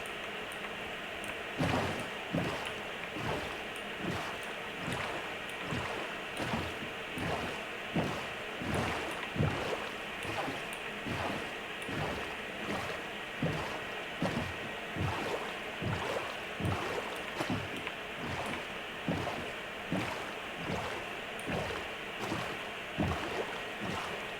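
A Minecraft boat moves across the ocean, with rhythmic rowing splashes repeating roughly every second over a soft bed of wind and wave noise, no speech.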